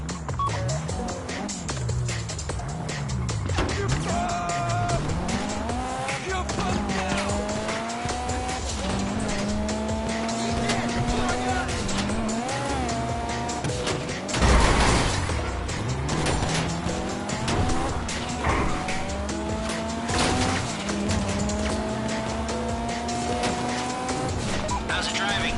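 A battered, wrecked getaway car in a heist video game drives hard, engine droning steadily with rising and falling revs and repeated tire squeals and skids throughout, loud and continuous, with a brief heavier crash-like burst midway.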